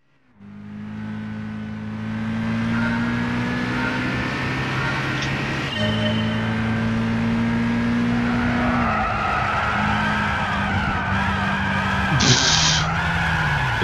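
A Lotus Elise races in Gran Turismo 6, its engine droning and shifting up through the gears while the tires squeal and skid through the corners. The sound is loud, close and continuous.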